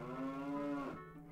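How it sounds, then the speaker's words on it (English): A single drawn-out cow moo from The Legend of Zelda: Ocarina of Time, close and clear, lasting about a second. "there's that cow you liked so much"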